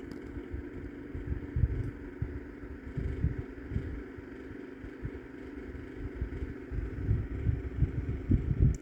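A Windmere 9-inch oscillating desk fan, model NR-9, runs on high with a quiet steady airy whir and soft low rumbling flutter, uninterrupted throughout.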